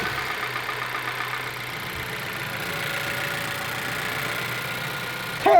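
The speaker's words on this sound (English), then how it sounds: "We'll start it up and listen to the engine." A small car engine idles steadily at a moderate level, a low continuous hum with slight roughness, ending in a brief louder burst.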